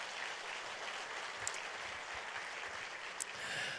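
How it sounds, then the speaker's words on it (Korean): A church congregation claps in praise, a soft, even wash of many hands heard from a distance that continues steadily for the whole few seconds. "우리 주님께 영광의 박수 올리겠습니다"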